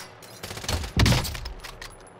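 A loud close burst of rapid gunfire in Call of Duty: Modern Warfare, a short fusillade of overlapping shots peaking around a second in, then fading with echo.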